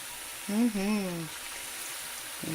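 Navajo fry bread dough fries in oil on medium heat, giving a constant soft sizzle that runs beneath a short spoken voice, faint and close.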